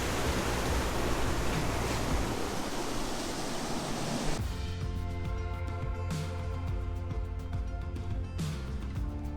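A waterfall in the Hartz Mountains, swollen after rain, roars with loud continuous rushing water before the sound drops to a quieter, steadier wash.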